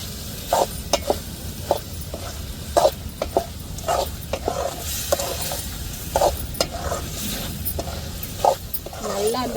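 Chicken fry with masala powder is stirred in a pan, giving repeated scraping spoon strokes in a steady rhythm over a soft, constant sizzle, close up.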